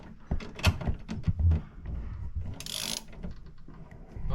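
A ratchet tightening a bolt at a mounting bracket on a car engine while the wiring harness is repaired, with quick clicking strokes close by and a brief hissing scrape midway.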